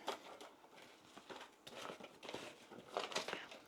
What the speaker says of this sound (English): I'm going to tape it.